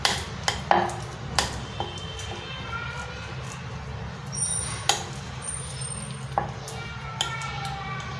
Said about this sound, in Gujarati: ફ્રેશ લીલા ધાણા ઉમેરશું. ચીલી ફ્લેક્સ ઉમેરશું અને બધું સરસ મિક્સ કરશું.